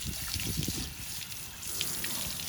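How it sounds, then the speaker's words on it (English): Water from a hose or tap trickles and splashes over chrome car exhaust tips to rinse off dirt, a faint, steady running-water sound with small spatters. "I'm going to clean the exhaust with the water. Just going to water it down to get all the dirt off"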